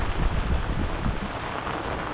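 Steady rain falling on a sailboat moored near an old fishing town, a dense close patter of drops hissing continuously with no voices.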